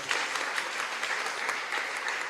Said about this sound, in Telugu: ఒకసారి గట్టిగా చప్పట్లు కొడదామా?